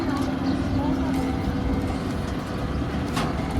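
A Gautam-949 combine harvester reverses in a Gujarat village, a steady heavy engine rumble with a faint high whine, running continuously at close range while voices talk over it.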